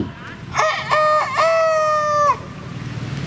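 A rooster crows once, close and loud, a drawn-out cock-a-doodle-doo lasting under two seconds, with quiet background before and after.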